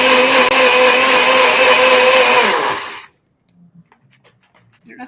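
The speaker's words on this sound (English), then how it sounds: "He hates the blender sound." A kitchen electric blender runs loudly for about three seconds and then cuts off abruptly, followed by faint room sounds and quiet voices in the background.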